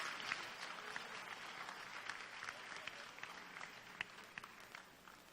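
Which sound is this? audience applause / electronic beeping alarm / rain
audience applause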